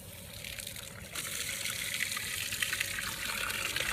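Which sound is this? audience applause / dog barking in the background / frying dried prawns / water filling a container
water filling a container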